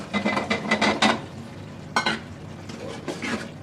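Potatoes and tomatoes tipped into spices frying in oil, giving a few close bursts of scraping, clattering stirring over a steady low sizzle, with no voices.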